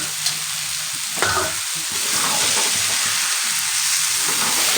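Kabuli chickpeas and potatoes are stirred through sizzling spices in a hot pan, giving a steady close frying hiss with a few scraping knocks of the spoon against the pan.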